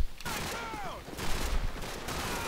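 Rapid bursts of automatic gunfire in Call of Duty 4, loud and continuous through a short firefight, with faint talk over it.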